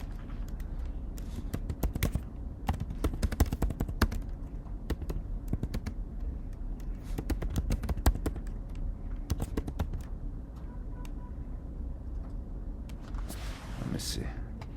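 Rapid clicking of computer keys being typed in bursts with irregular rhythm, close and fairly clear, with a faint hiss and a brief rustle near the end.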